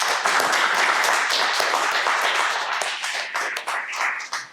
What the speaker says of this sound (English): let's give another round of applause to our panelists today